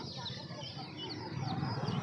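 Chicks peep and chirp amid a dense, noisy Sunday poultry market din, with faint voices and bustle in the background throughout.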